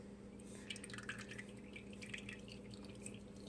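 Engine oil drains from a John Deere HPX 4x4 Gator into a bowl, making a faint, steady trickle with scattered soft drips over a low background hum.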